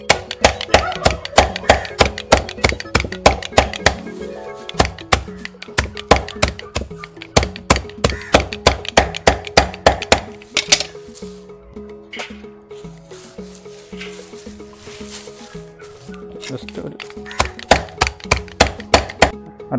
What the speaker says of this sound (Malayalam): നമ്മൾ പുല്ല് അരിയുന്നതിന് മുമ്പ് ആ പുല്ലൊന്ന് നനച്ചെടുക്കുകയാണെങ്കിൽ വേഗത്തിൽ നമുക്ക് അരിഞ്ഞെടുക്കാൻ പറ്റും